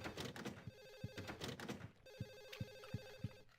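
In Silent Hill 4: The Room on PS2, a telephone rings in short buzzing bell bursts, fairly faint and muffled as if from another room, over dull thudding footsteps in a dark ambient game soundscape.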